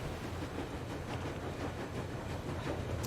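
A moving train rumbles steadily in Metro Exodus, a low continuous rolling noise with faint rhythmic clatter, heard alone and fairly quiet.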